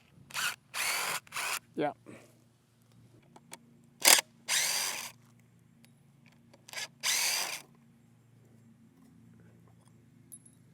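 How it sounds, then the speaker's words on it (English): A DeWalt driver reversing wood screws out of a wooden form, several short, loud whirring bursts separated by quiet pauses, with a brief spoken word among them. "I'm just going to take my DeWalt driver and reverse those wood screws out of the form"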